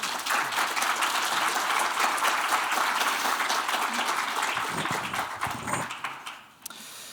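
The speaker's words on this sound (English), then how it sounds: "So maybe we could just give a quick round of applause first." Audience at a vision-loss awareness conference morning session gives a steady, dense round of applause throughout, loud and even, tapering off near the end.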